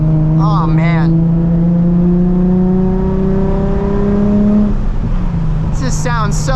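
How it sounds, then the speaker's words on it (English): Engine of a 2007 Nissan 350Z with the HR engine revving while driving, a loud steady drone with smooth rising pitch that holds for several seconds, then drops as revs fall; brief voices cut in near the start and end. "HR definitely makes a different sound than the regular DE or the Rev-Up."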